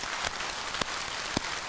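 Temple congregation at a Sunday Buddhist service claps together, a dense, even patter of many hands with a few sharper individual claps standing out, filling the whole brief moment without speech.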